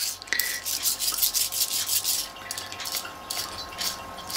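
Orange cleaner sloshes and splashes gently inside a Märklin model train gearbox. Close, continuous wet rubbing and swishing with irregular small surges and no talking.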